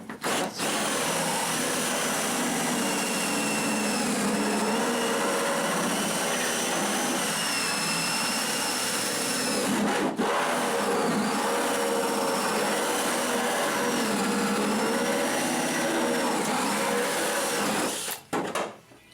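A hole saw cuts a 2.5 inch hole during a basement shower installation, producing a loud, steady, continuous grinding whine, with brief pauses near the start and end and no talk.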